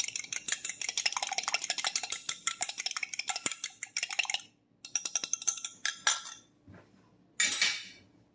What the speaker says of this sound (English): now we are going to beat these eggs, the yellows